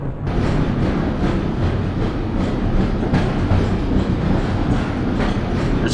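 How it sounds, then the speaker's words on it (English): Steady rumble and rhythmic rattle of a train ride in the video game Half-Life, a continuous loud rolling clatter with no talk over it. "We're still on this train ride."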